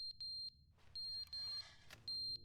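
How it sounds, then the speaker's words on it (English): Fire alarm going off in the video game The Stanley Parable, a piercing high electronic beep repeating in short and longer bursts with brief gaps, clear and fairly close, with no talk. "The fire alarm's going off."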